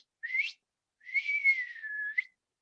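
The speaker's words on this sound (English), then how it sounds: "I can't whistle very well, but I'm gonna try." A person whistles a wolf whistle alone: a short rising note, a pause, then a longer note that rises and slowly falls.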